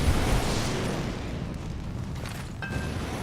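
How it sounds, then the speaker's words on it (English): Explosions in the video game Quasimorph, a loud rumbling burst at the start that rolls off into a sustained crackling roar, with sharp small pops toward the end. "Mild explosions, and that's mission complete."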